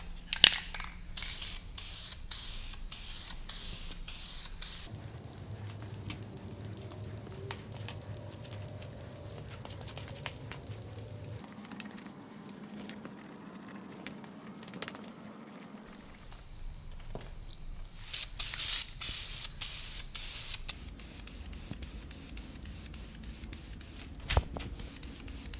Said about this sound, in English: now she is time to be painted